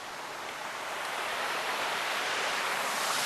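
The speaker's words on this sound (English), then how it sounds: "This here is the waterfall that you were seeing earlier" A waterfall at a sculpture garden with palm trees pours down steadily, a broad, even rushing hiss that holds constant throughout, with no voices.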